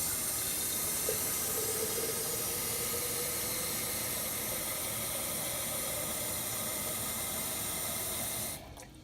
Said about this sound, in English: And then you're going to fill it up with water.